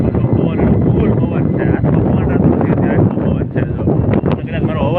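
Strong wind gusting across a rooftop in Surat before a storm, a loud continuous rushing roar buffeting the microphone, with a person talking over it.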